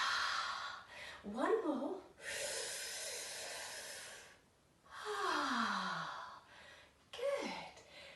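A long, breathy exhale during a springtime yoga breathing exercise, soft airy rushes alternating with a spoken voice guiding the session, fairly close and gentle.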